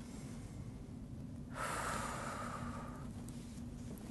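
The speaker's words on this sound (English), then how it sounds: "Take a deep breath, please." During a chest and lung examination, a patient's single deep breath is drawn in and released, heard close and soft over a quiet background hum, with no talking.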